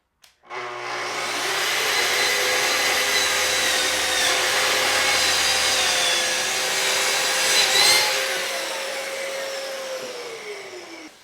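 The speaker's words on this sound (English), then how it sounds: "I'm going to bring it to exact length by cutting off the other end" A power saw cuts through a wooden board to exact length in a woodworking shop, a loud steady whine that starts abruptly, holds for about ten seconds, then winds down as the blade spins to a stop.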